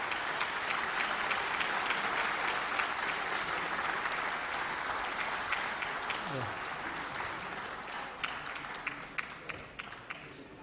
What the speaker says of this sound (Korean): 의원님들께서는 박수로 환영해 주시기 바랍니다